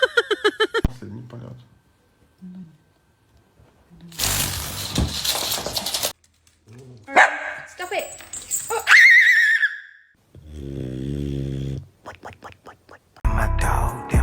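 A dog yips and whimpers close by in short bursts. People speak, exclaim and whisper between and over the sounds, with quiet gaps in between.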